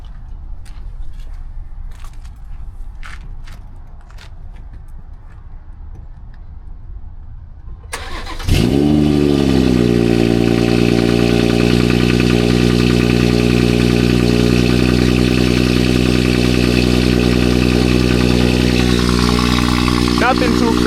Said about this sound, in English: do a cold start right quick before we run to the gas station.